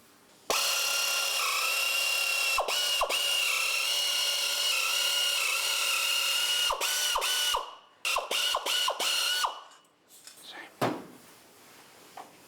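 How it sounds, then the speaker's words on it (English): Sheet metal being cut along a marked line with a shop cutter on a rusty street rod restoration, a loud sustained mechanical whine and grind with several sharp clunks, then stopping and tapering into brief scrapes. "It's a cutter to do the sheet metal with."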